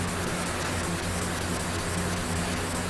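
Car paint wet-sanded by hand with 2000 grit paper on a slightly flexible soft block, worked in small squares, producing a constant close scratchy rubbing hiss with no voices.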